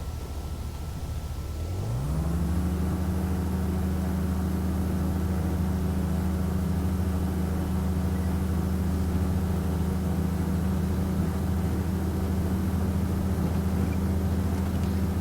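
Carenado Cessna C172 piston engine in the X-Plane flight simulator powering up for a takeoff roll, droning low and steady as it spools up after two seconds and holds a loud, even hum throughout.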